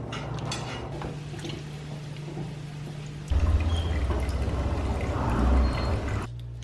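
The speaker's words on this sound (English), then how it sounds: "Once the vegetable is done, I transfer it to a bowl so I have the pot to boil chicken." Cooked vegetables are transferred from a rice cooker pot into a bowl in a Guatemalan kitchen, a close, wet pouring and sliding sound with scraping, starting softer and turning louder and fuller midway.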